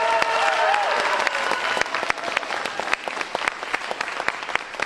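Audience applause at a high school instrumental holiday concert, loud clapping with some cheering and whistles early on, thinning into scattered individual claps toward the end.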